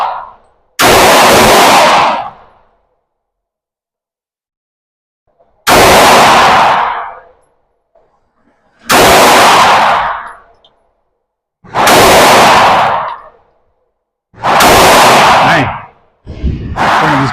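Pistol shots from a 9mm Glock 19X or a .45 ACP Glock, fired one-handed at a dot-drill target on a range: five loud, sharp reports spaced a few seconds apart, each with a short ringing decay, no talking.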